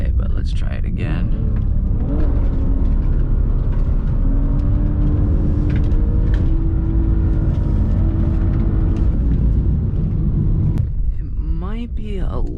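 A BMW E46 drifting, its engine revving loud and close, the pitch climbing and holding in a steady strained drone before cutting off near the end.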